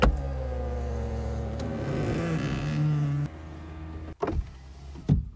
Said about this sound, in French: les vitres s'abaissent automatiquement